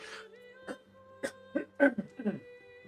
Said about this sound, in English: excuse me, after I clear my throat, hopefully.